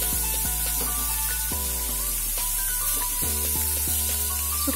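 Salted dry fish frying in hot mustard oil with turmeric, a steady broadband sizzle with faint tonal hum beneath, no voices, even and continuous throughout.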